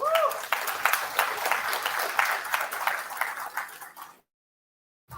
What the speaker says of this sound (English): So a huge round of applause first and foremost to the audience.